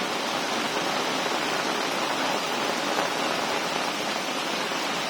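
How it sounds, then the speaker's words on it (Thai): Heavy rain pours down steadily during a windy storm, a dense, continuous hiss of close, loud downpour with no pauses. "ฝนตกหนักมากเลยนะครับ"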